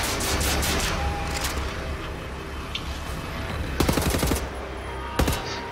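Rapid bursts of laser fire from a flying enemy in Wolfenstein: The New Order, crackling volleys in clustered strikes, with louder salvos near the end over a rumbling combat bed.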